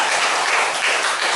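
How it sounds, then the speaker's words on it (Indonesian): Classroom of students clapping for a classmate after a correct answer, a loud, dense burst of applause filling the whole moment with no voices over it. "tepuk tangan untuk Joki"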